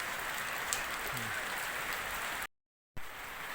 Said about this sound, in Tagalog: So inabot tayo ng ulan.